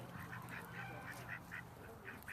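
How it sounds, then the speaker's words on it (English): Ducks crossing a path at a plantation quack in a series of short, faint calls spaced irregularly over a low background hum, somewhat distant. "And there goes the ducks crossing."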